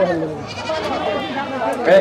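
Goats bleat in wavering, quavering cries close by, while people talk over them throughout.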